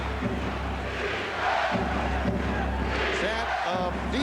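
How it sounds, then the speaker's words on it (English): Capacity crowd at a Knicks basketball game in Madison Square Garden chanting "defense" in rhythmic waves, a loud, dense roar filling the arena, with an announcer's voice talking over it. "Chant of defense from this capacity crowd."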